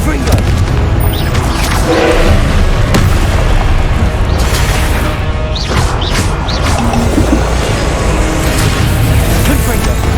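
Confringo blasting spells and other combat spells going off in the video game Hogwarts Legacy, a loud continuous wash of booms, crashes and bursts with shouted spell names and voices over the top.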